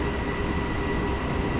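Electric BR 426 multiple unit running steadily on the Augsburg–Munich line near Haspelmoor station in Train Simulator 2015, a continuous loud rumble and rail hum with a faint whine, no speech.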